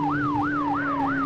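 Police car siren from the SNES racing game Test Drive II, a wailing tone that sweeps up and down in a steady cycle of about three rises over a sustained background drone, loud and continuous.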